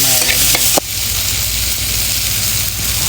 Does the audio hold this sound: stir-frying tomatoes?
yes